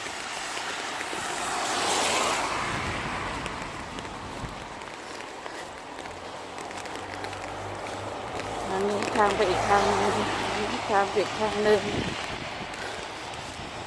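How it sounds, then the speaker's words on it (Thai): Strong, gusty wind blowing outdoors in cold, rainy UK winter weather, a broad rushing roar that swells and eases, with someone talking over it. "ลมแรงมากเลย"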